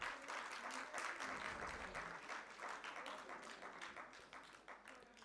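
Applause from a conference audience rolls on as steady, moderately distant clapping from many hands, faint and even throughout with no voices over it.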